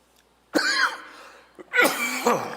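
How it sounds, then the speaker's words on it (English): Two harsh, close coughs, the second longer and raspier, separated by a short pause. "And we know that my cough is not in a good place either."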